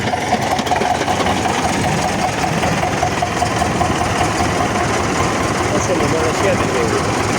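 A GAZ truck engine idles and runs steadily on its first drive after repair, a loud, continuous low rumble with a knocking vibration throughout.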